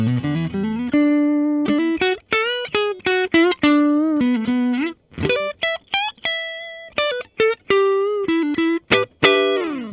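A 2007 Fender Made-in-Japan Disney Donald Duck Telecaster played through the neck pickup gives a mellow, clean tone: bright plucked single notes and short phrases, loud and close, with small pauses between runs.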